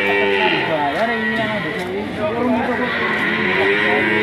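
Several large cattle, each around 450 to 500 kg, lowing in a loose series of drawn-out moos close by, with people talking over the herd throughout.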